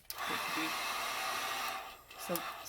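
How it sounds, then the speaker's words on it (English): A handheld dryer blows with a steady hiss while drying wet paper craft pieces, starting abruptly, dipping briefly near the end, then returning, with a few soft voice sounds nearby. "let me just pull out the dryer really quick and do that"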